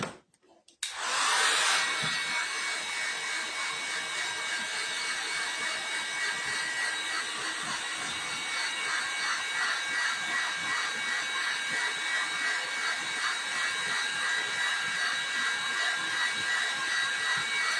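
A handheld blow dryer runs in a steady, loud airy whoosh with a hissing whine, starting up about a second in and blowing continuously at close range with no talking.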